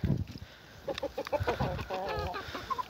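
A hen clucks in short repeated bursts, close by, with a rising, warbling cackle near the end and faint rustling around it.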